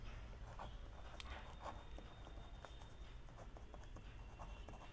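Pen or marker writing on a board or paper during a maths class, a series of faint scratchy strokes and taps spaced irregularly over quiet room noise.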